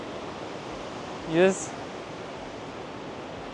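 Iguazu Falls waterfall on the Brazil side roars as a steady, broadband wash of falling water throughout, with a brief voice and a short whoosh partway through.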